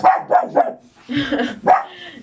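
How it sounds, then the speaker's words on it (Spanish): A small female puppy barks several times in quick yips, close and fairly loud, then gives a longer whining bark, with no talk over it. "y me interrumpió mi perrita"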